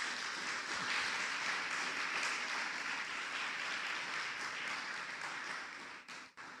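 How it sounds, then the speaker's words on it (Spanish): A church congregation claps together in greeting, a soft, fairly distant patter of many hands that holds steady and then tapers off. "vamos a darle un saludo con unas palmas a los hermanos que están en casa"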